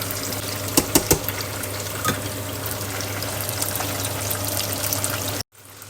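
Chicken pieces frying in oil in a small pan, a steady close crackling sizzle with a few sharp pops and spatters, cutting off abruptly near the end.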